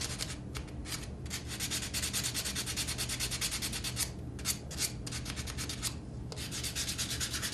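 Wood being hand sanded with fine sandpaper, a fast rhythmic rubbing hiss of short back-and-forth strokes, close and steady with no talking.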